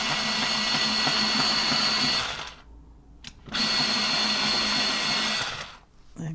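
An electric pencil sharpener whirs loudly in two steady bursts of a few seconds each, with a short quiet gap between them, close by and without talk.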